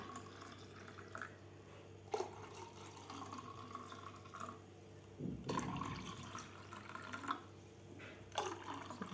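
Half a litre of boiled and cooled milk is poured into watermelon juice, making a faint, quiet trickle and liquid splashes with a few soft drips and clinks at close range.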